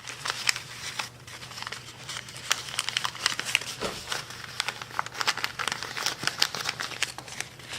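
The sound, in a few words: folding paper for seed starting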